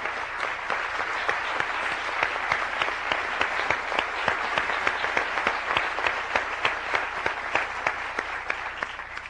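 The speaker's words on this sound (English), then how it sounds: "I think it only appropriate that we applaud him for his..." Steady applause from a lecture audience at an event on African Americans and the media, dense overlapping claps sustained for several seconds at a consistent level with no talk over it.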